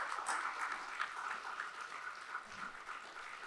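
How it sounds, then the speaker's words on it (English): An audience claps at length for children at a literature festival, a faint, steady wash of applause heard from some distance with no voices over it. "long clap."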